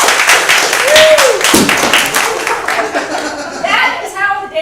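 Theatre audience at a Theatresports improv show breaking into loud, sustained applause, clapping steadily for several seconds with a brief whoop early on and voices emerging as it tapers off.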